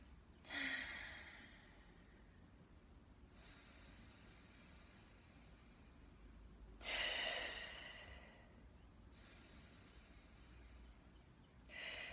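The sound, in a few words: breathing exercise, breathing in and out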